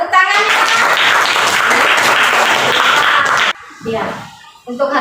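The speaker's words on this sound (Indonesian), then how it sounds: "Iya, tepuk tangannya." Students in a classroom burst into loud, dense clapping that runs steadily for several seconds, then stops abruptly and gives way to a few scattered noises and brief talk.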